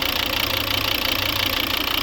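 A steady, even idle from a 2011 Volvo V60 2.0 D4 diesel engine, a low rumble with faint knocking, constant throughout with no talk.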